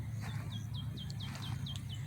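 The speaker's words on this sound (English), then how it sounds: "the sounds of nature and the birds chirping" Small birds in a quiet cemetery give a steady string of quick, evenly spaced high chirps, fairly faint over a low background hum, with no talking.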